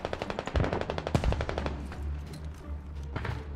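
Rapid machine-gun bursts in a multiplayer war video game, a fast rhythmic string of loud shots followed by heavier impacts, then fading into rumbling background.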